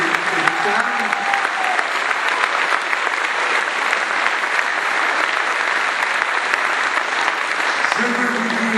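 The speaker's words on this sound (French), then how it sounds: "Alors je veux vous demander d'applaudir les deux députés qui sont là, Abdoulatif Ouali, député de Mayotte" Loud, sustained applause from a large crowd at a political rally in La Réunion, dense clapping filling the whole stretch without a break.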